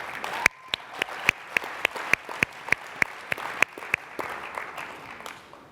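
An audience at a TiEcon 2013 youth session claps, a steady run of sharp, distinct hand claps rising and falling at moderate distance, with no voices over it.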